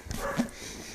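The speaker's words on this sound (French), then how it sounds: "pourquoi elle aboie aussi là?" Dog barking indoors, a single short close yelp or bark over room noise, briefly overlapping a voice.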